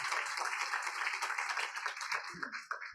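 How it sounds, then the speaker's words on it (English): An audience at a women's fund forum applauds panelists, a dense wash of clapping from many hands that is loud at first and thins out toward the end. "if we can give one more round of applause to our amazing panelists."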